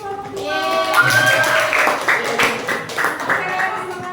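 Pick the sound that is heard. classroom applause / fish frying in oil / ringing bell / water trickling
classroom applause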